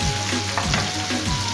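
Chicken pieces fry in a pot of hot oil for yakhni pulao, a close, steady, crackling sizzle with a few stirring scrapes and no voices.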